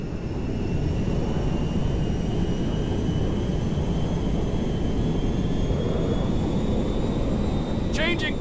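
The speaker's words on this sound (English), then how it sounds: "Meriwether cargo jet to ground control. Please be advised of a change of destination." A cargo jet in the video game GTA V flies with a loud, steady engine roar that fills the whole stretch, and a faint electronic chirp sounds near the end.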